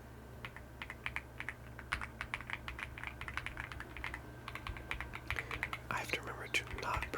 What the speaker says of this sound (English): I haven't even shown my keyboard off.